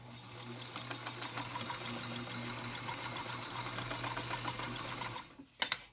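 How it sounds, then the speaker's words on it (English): A sewing machine stitches steadily through fabric for a face covering, a close continuous motor hum with rapid needle clatter, then stops and is followed by a couple of brief handling knocks. "my machine anyway, really does sew over this material just like butter."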